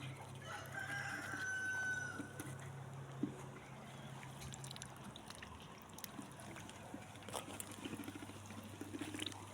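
A rooster crows loudly near the start, followed by scattered hen clucks over a steady outdoor background hum, on a farmyard with turkeys.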